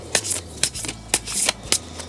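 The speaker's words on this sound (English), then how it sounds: "I have the deck here, so I'm just going to give it a little shuffle" A deck of reading prompt cards is shuffled close by in several quick riffling bursts, with short pauses between them in a quiet room.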